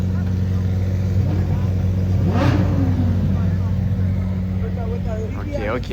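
A V10 supercar engine fires up and revs outdoors, a loud, steady droning idle with one sharp rising rev in the middle. People talk over the engine noise throughout.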